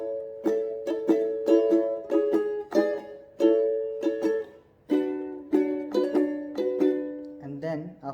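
A ukulele strums steadily through a chord sequence for about eight seconds, with regular rhythmic strokes and changing chords, ending in a brief muted scratch.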